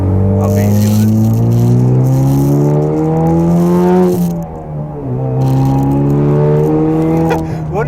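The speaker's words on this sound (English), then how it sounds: "When the turbo picks up, dude." A 2016 Chevrolet Camaro RS with a 2.0-litre turbocharged four-cylinder accelerates hard, its engine note climbing steadily through the revs, briefly dropping at a gear change and then rising again. It is loud and close, heard from inside the car.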